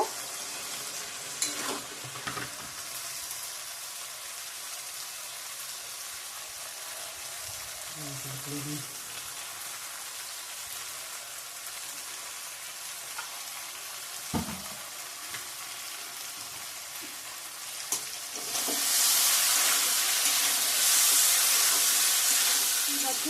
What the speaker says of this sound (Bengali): কাবলি ছোলাটা মশলার সঙ্গে ভাজা হয়ে গেছে